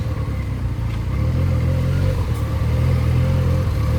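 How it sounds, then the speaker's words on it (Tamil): Heavy road traffic surrounds a rider on a Benelli 300 motorcycle, a steady low engine drone and rumble of surrounding vehicles filling the scene continuously, close and loud with no voices. "ஒரே டிராஃபிக்காக இருக்குது கைஸ்."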